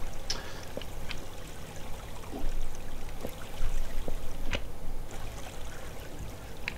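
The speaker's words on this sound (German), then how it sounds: "Das haben wir auch noch dieses schöne Geräusch von fließendem Wasser, was fürs Kraftwerk aber ganz gut passt" Flowing water in the game Minetest by a power plant build: a continuous soft trickling stream with scattered light clicks and taps layered over it, moderate and steady.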